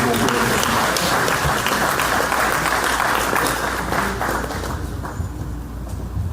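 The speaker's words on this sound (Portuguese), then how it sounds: "Você pode aplaudir Jesus?" Dense applause from a church congregation rolls on steadily after a sermon, then gradually thins and fades toward the end.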